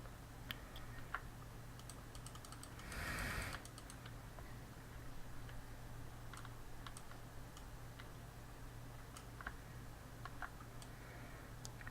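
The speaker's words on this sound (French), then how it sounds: "Je bourrine pas mal sur les clics hein, pour gommer plus ou moins les parties que je veux." Rapid computer mouse clicking while erasing image areas in GIMP, quick light ticks scattered in irregular runs, close and faint over a steady background hum, with no talking.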